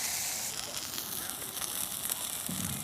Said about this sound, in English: Oh, hear the sizzle.